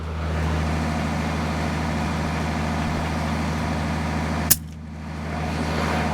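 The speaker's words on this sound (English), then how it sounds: "I apologize for the noise because the generator is running again" A generator drones steadily in the background outdoors with a low, even hum, and a single sharp airgun crack snaps out near the end before the hum continues.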